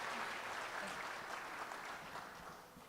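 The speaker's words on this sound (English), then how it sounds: "Let's give him another hand." Sustained crowd applause at a live O-Fan Day product launch, dense and steady clapping from a large audience that tapers off slightly toward the end.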